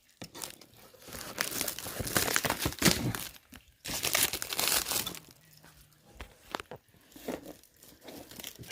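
Plastic foil wrapping is torn and crinkled off a package by hand, giving bursts of loud crackling and ripping close by, with brief pauses between handfuls.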